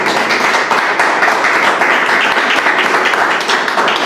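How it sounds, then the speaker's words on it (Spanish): A church congregation claps steadily and loudly throughout, a dense continuous applause with no pauses. "Vamos a dar un aplauso al Señor."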